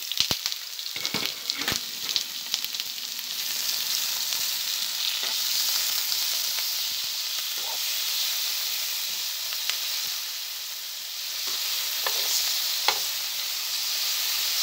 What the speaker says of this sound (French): un petit peu d'huile d'olive et on y met la viande directement